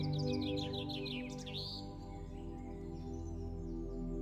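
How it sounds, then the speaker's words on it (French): Birds chirping and singing in a peaceful garden, bright trills clustered in the first two seconds, then fainter calls over a steady soft background of music or ambience. "Tu entends le chant des oiseaux"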